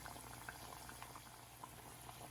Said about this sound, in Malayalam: ഇതൊരു മീഡിയം ഫ്ലെയിമിൽ ഇട്ടിട്ട് ഫ്രൈ ചെയ്തെടുക്കാം.